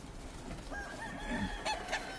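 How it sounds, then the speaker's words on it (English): A faint Kelso rooster crows briefly in the distance on a farm, with soft clucking and low background noise around it. "And these are Kelso roosters that we bred before."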